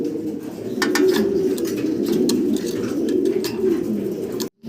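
Low, continuous cooing of several German Beauty Homer pigeons close by at a pigeon farm, a soft rolling murmur with faint clicks and rustles above it.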